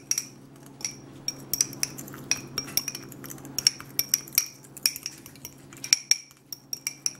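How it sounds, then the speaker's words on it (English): A metal spoon stirring two bouillon cubes with a little oil in a bowl, a steady run of bright clinks and scrapes against the bowl at an uneven rhythm, close and clear, with no talking. "mix the two bouillon cubes, a little bit of oil just to dissolve it"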